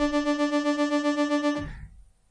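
Synthesizer pulse engine tone from the SIGNAL sample library: a steady, buzzy harmonic drone with a regular wobbling pulse that holds for about a second and a half, then cuts off into a brief decaying tail.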